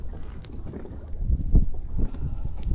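Strong wind gusting over a river while fishing from a boat, a steady low rumble of microphone buffeting with louder surges, continuous and close, no voices.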